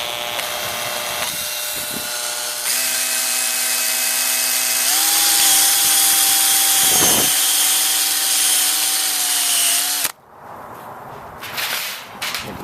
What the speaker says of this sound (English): Alright, let's get drilling.